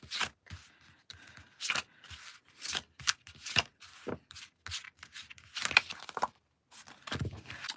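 Tarot cards are drawn from a deck in a quiet room: a series of short, soft rubs and slides of cards, irregular and close, separated by brief pauses.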